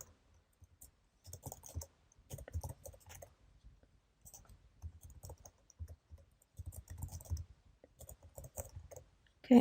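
Typing an email address on a computer keyboard: quiet clusters of rapid keystrokes in several bursts separated by short pauses, close and soft, ending with a louder knock.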